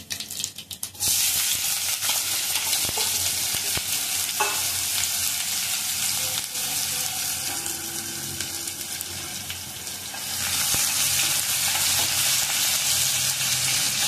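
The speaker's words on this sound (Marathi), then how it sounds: "थोडा हिंग, कांदा टाकला." Asafoetida, cumin and onion drop into hot oil for a kohlrabi bhaji, bursting into a loud, steady sizzle that swells again near the end, with a few stirring scrapes.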